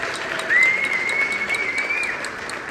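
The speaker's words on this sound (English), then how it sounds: "I think a round of applause for Andrea" A room of guests at a PPL Christmas party breaks into a round of applause, a dense, steady clapping that swells and holds, with a whistle ringing out over it.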